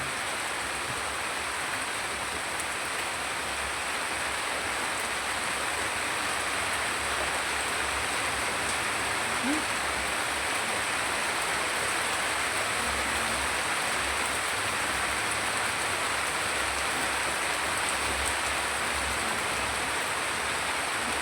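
Steady rain falls at a home, a dense, even hiss of water that stays constant and fairly loud for the whole stretch, with no voices over it.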